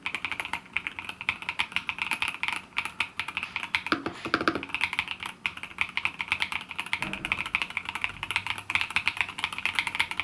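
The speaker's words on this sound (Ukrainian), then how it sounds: "клавіатура звучить м'яко, без зайвого брязкоту" Steady typing on an ROG Azoth X 75% mechanical keyboard, soft and muted keystrokes in a continuous rapid patter, close up with no voices.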